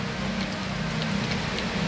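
Steady rain falls close by, a dense continuous hiss with a low rumble underneath and faint drips throughout, and no voices.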